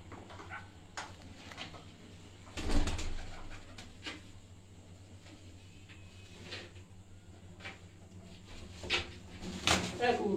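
Rooftop pigeons coo softly at a distance, with faint scattered clatter and a few louder knocks among them over a low background hum.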